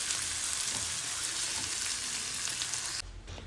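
Dried red chillies stir-fry in a kadai with garlic, a loud, steady, close sizzle that drops off abruptly near the end.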